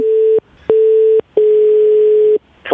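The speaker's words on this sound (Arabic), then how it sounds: "سامحني خويا قص التليفون." A telephone busy tone after the line is cut off: loud, close, steady beeps repeating in an uneven on-off pattern, one long burst among shorter ones, with no talk.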